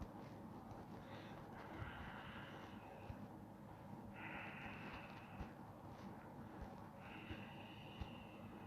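Airplane engine drone in a strategy war video game, a steady low rumble with recurring higher whining tones layered over it, continuous and moderately loud throughout.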